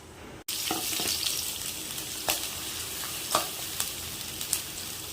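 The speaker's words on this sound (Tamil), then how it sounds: "பட்டை கிராம்பு கொஞ்சம் ஃப்ரை ஆகட்டும் ஃப்ரெண்ட்ஸ்" Cinnamon and cloves fry in hot oil for dalcha, giving a steady, loud, close sizzle with occasional sharper crackles and pops after a sudden start.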